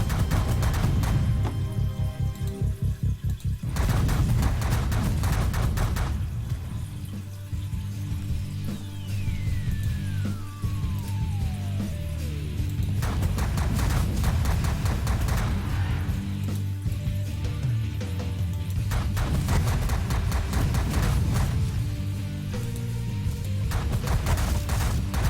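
Energy blaster fire in The Last Federation space strategy game, loud sustained bursts of weapon noise and explosions over a low synthetic rumble, with a long descending whistling tone partway through, no talk.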